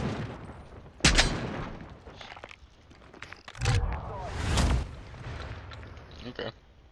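Shotgun blasts in a Call of Duty match, with a few loud, separated booming shots among quieter background gunfire while a player talks throughout.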